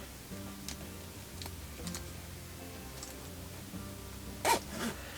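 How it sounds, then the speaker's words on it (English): A zipper on RV bedding is run along its track in a brief, quiet rasp near the end, preceded by soft ticks and rustling from handling the fabric in a quiet room. "Start that zipper, and we'll start this zipper."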